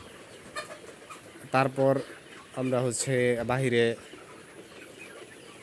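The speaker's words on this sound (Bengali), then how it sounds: "আমাদের মুরগিগুলা পালন করি" Chickens raised on a poultry farm cluck and call in several bursts, fairly close, with a person speaking briefly over them.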